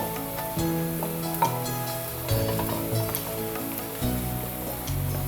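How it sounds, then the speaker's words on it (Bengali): Onions frying in a pan with torn bay leaves, browning for Dhaka restaurant-style bhuna chicken khichuri, give a steady close sizzle that runs throughout beneath background music. "তেজপাতা ছিঁড়ে দিয়ে দিয়েছি প্রায় পেঁয়াজটা ভাজা হয়ে গেছে আর একটু ব্রাউন করব"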